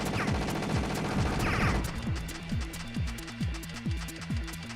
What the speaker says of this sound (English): if you spam the square button, that's the machine gun button. That's the like rapid fire like that.